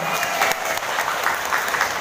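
Audience applause at the opening of a teacher workshop in Majalengka: a short, even burst of many hands clapping together, loud and sustained for about two seconds with a faint crowd murmur underneath.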